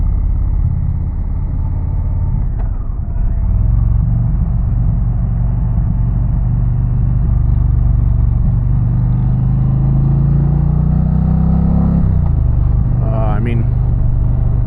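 Indian Challenger motorcycle exhaust while riding on back roads, a loud, deep, steady rumble close up that swells and shifts pitch as the rider rolls on the throttle, with some wind noise.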